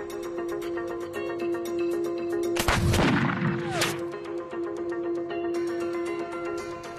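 A musket shot cracks out loud and sharp at a target, its blast trailing into a rumbling echo, followed about a second later by a second bright burst, all over a steady background tone.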